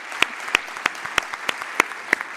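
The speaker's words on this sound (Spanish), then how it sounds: "Un aplauso también." Scattered hand claps at a cybersecurity conference in the Basque Country, a few sharp distinct claps standing out at a loose irregular rhythm above a light wash of softer clapping, close and fairly loud.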